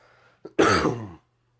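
Narrator acts out a sick teacher's cough, one harsh, close throat-clearing cough after a brief catch of breath, then silence.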